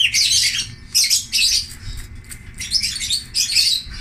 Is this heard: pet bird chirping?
yes